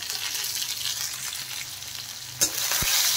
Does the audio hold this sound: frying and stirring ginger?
yes